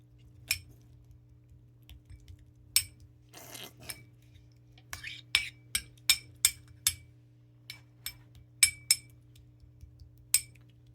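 A utensil taps and scrapes against a ceramic dish while Friskies cat food is mixed with water and mashed, giving a string of light clinks and clicks at an uneven pace over a quiet low hum.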